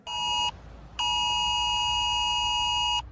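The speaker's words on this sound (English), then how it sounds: "You may well still be out on the course when that national emergency signal" A UK government national emergency alert test tone sounds on a phone: a short loud electronic beep, a brief pause, then a longer steady piercing tone of about two seconds, heard alone without speech.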